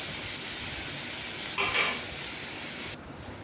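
Ground cumin, coriander, Kashmiri chilli, salt and turmeric fry in a pan, a steady sizzling hiss with a brief stirring scrape midway before the sound drops lower near the end.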